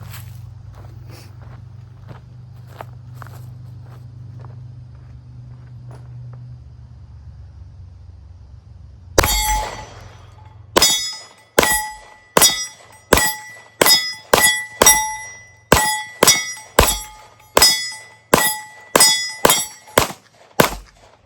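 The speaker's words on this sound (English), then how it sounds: "we'll load this up and we'll get some shots downrange on this steel" Rifle shots fired at steel targets downrange: after a quiet start, about a dozen sharp cracks arrive in a steady, evenly spaced rhythm, each followed by a bright metallic ring from the struck steel.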